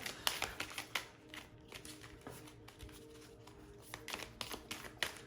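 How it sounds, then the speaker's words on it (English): A deck of tarot cards is shuffled by hand, crisp riffling bursts and taps coming in quick irregular clusters, close and fairly quiet. "I'm such a great shuffler with this deck"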